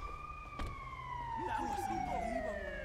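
Police siren from the GTA Online video game, a steady descending electronic wail that is loud and continuous, with someone talking over it partway through.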